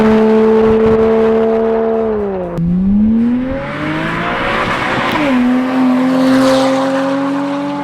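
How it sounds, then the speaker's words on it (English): A Porsche Cayman 987 flat-six breathing through a Top Gear valved exhaust, revving loud and close, its pitch climbing, dipping sharply, then swelling again with a raspy edge and no talk. "the first thing that I love about this exhaust, their sound."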